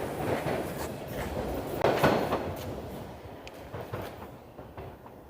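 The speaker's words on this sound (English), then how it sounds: "So I'm gonna turn this off when the train gets here." A subway train in downtown Toronto pulls into the station on a freezing winter night, a steady rumble of wheels with clickety-clack and a brief sharp clank, easing off as it slows.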